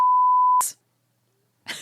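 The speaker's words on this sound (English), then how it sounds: "Beep that out." A single loud, steady censor beep sounds for about half a second, then cuts off abruptly into silence before a voice returns.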